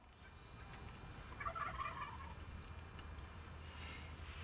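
Faint gobbling calls of wild turkeys on the prairie carry from a distance, a brief burst of chatter rising over a quiet outdoor hush.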